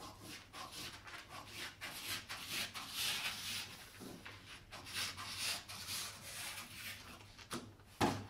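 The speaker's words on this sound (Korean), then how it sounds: "자 이렇게 자른 다음에 여기도 이제 잘라줄게요" Scissors cutting through a paper sewing pattern for a dolman batwing jacket, giving a run of soft, close rasping snips and rubs over several seconds, with a sharper snip near the end.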